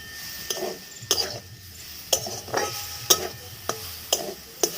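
Coconut and palm jaggery filling is stirred in a wok, a run of distinct scraping strokes roughly once a second over a faint sizzle, close up.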